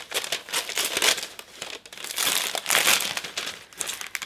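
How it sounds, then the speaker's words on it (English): Wrapping paper torn and crumpled off a parcel of books, loud close crinkling and ripping in irregular bursts with no talk. "One should not leave me with wrapping paper because I tear it."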